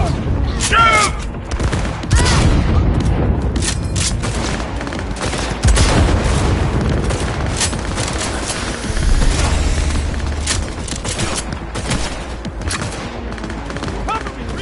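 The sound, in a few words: gunfire in the video game Cyberpunk 2077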